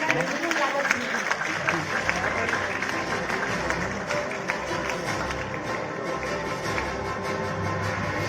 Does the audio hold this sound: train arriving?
no